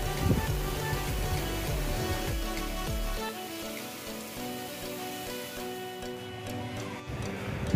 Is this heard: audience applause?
no